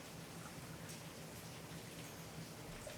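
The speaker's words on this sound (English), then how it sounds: "The rain is really coming down." Rain falling outside on a rainy morning in Los Angeles, a steady soft hiss of drops that stays faint and even throughout with no voices.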